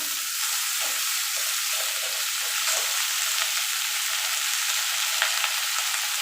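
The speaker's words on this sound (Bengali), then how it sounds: "এখানে আমার কাঁচা লঙ্কা, কালো জিরে, শুকনো লঙ্কা আর রসুনটা ভাজা ভাজা হয়ে গেছে।" Green chili, nigella seeds, dry chili and garlic fry in hot oil with leaves, a bright, continuous sizzle close by with occasional faint stirring clicks and no talking.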